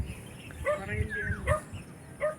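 A dog yips and whimpers in short bursts outdoors near rice paddy fields, a few high sharp cries over low background rumble.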